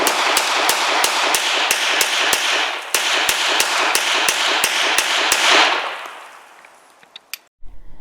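Rapid string of sharp pistol shots from a Sig M17 (P320) at an outdoor range, about sixteen evenly spaced cracks over a constant roar of wind and ambience, ending in a sudden stop and a few handling clicks.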